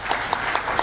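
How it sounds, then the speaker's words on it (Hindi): Audience applause at an IMC leadership training seminar in Gorakhpur, a continuous crowd clapping at fairly close range with a few sharper individual claps standing out above the wash. "तो ये तालियां आपके लिए होनी चाहिए।"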